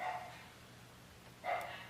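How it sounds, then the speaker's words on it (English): Dogs bark in the background during a paintball marker regulator repair, two short bursts of barking separated by a quiet pause, faint and distant. "The dogs in the background."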